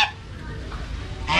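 Geese honking at an eco-themed garden cafe in Tay Ninh, a couple of short nasal calls at the start and end over low background rumble, fairly near and loud.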